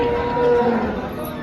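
Cows moo at a busy cattle market in Dhule, with one long, loud low call standing out over a dense background of other livestock and crowd murmur.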